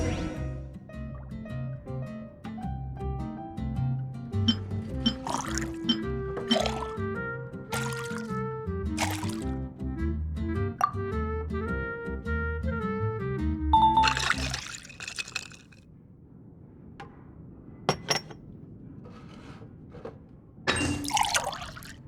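Water trickles and pours into a drink at a bar in Genshin Impact, first beneath a plinking musical melody and then alone as a softer, thinner trickle with a few drips.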